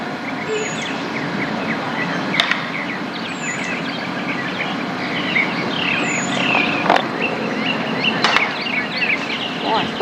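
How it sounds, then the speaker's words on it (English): An axe splits wood outdoors, giving a few sharp, isolated chops spaced seconds apart at a moderate distance, with birds chirping throughout and a steady background hum. "That sound you hear in the background is a fellow chopping wood."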